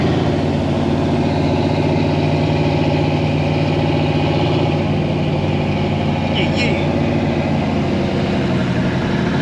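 A turbocharged drag car with a 5.3 iron-block engine and 4L80 transmission idles at a one-eighth-mile drag strip, giving a steady, close, even low rumble that holds throughout.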